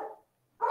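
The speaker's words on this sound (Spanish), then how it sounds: "Chale, mis perros están locos." Dogs bark in short bursts, moderately near, with a brief pause between barks.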